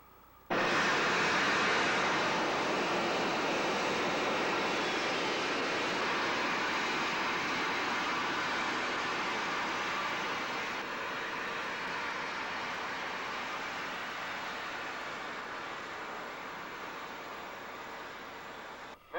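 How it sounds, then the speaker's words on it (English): Third-stage rocket engine firing: a loud, dense, continuous roar that holds steady for nearly twenty seconds, easing off only slightly toward the end. "Third and final stage ignited."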